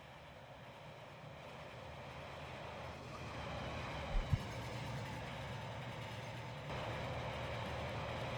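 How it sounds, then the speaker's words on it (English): Amtrak train in the railway game Rolling Line rolling along the track, a steady low rumble that builds slightly toward the end, with a couple of brief clunks midway and no talk. "got the Amtrak train. And it's gonna roll through"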